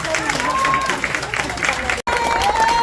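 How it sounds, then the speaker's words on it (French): Loud crowd applause and cheering for a shopkeeper and his team at a SPAR supermarket's second-anniversary celebration in Mouleydier, busy and continuous, mixed with voices and a brief dropout near the end. "vous pouvez l'applaudir. Très très fort."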